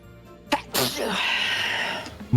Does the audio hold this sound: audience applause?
no